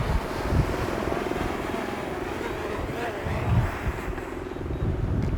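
DJI Mini 4 Pro drone flying and landing in 55 km/h winds, a steady whining propeller buzz buried under heavy gusting wind rumble on the microphone, with someone talking over it.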